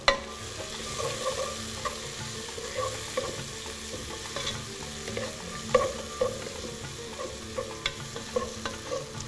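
Spoon stirring chicken kabsa with tomatoes, spices and dried coriander in a pot, a steady sizzle with repeated light scrapes and clinks, close and alone.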